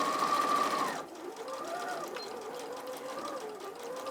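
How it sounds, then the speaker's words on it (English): A sewing machine stitches a quarter inch seam on fabric, a close, steady mechanical whir with a rapid needle patter running through the clip, a brief higher whine at the start, and no talk over it. "So I've just sewn between dot to dot with my 1/4 inch seam allowance."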